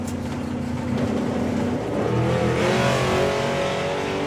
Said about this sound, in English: Tony Higgs plants the tyres and he's off with a 122 60 foot.